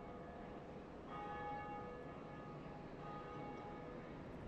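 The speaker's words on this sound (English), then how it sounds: "Ding dong, the first bell rings." A church bell in the video game Dark Souls rings with a faint, sustained metallic toll that swells slightly and lingers, heard alone without talk.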